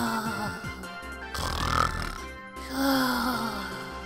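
A voice imitates the Pokémon Komala snoring, drawing out a few rough, rumbling grunts and breaths over several seconds, close and fairly loud.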